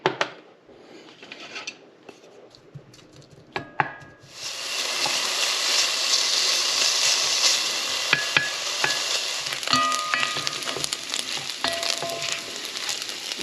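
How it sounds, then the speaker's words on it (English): Bacon lardons sizzle and spit loudly in a hot cocotte pan after a few quiet utensil knocks, settling into a steady bright frying hiss with occasional clinks of stirring. "Start getting our pan hot here. And I'm going to start by adding this bacon here."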